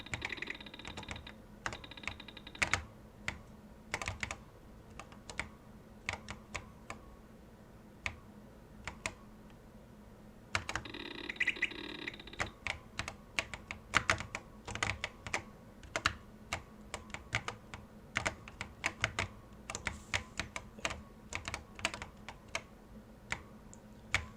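Keys clacking on an Apple IIe computer keyboard, scattered single taps and short bursts of typing close by, with a low steady hum underneath and no talking.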